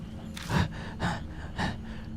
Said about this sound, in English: a woman's strained breathing drifts to me